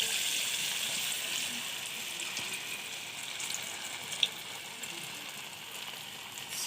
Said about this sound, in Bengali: দেখুন এবারে আমি তেলে ছেড়ে দেব।